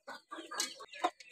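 A brooding hen sitting on her eggs on a farm, with newly hatched chicks around her, gives a few short clucks, close and quiet, in brief bursts.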